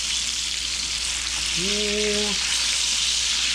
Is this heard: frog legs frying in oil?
yes